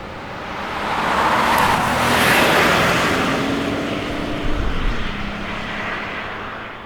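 A 2026 Hyundai Palisade XRT Pro driving: steady road and engine rumble with tire noise that swells and eases, heard from inside the cabin with no talking.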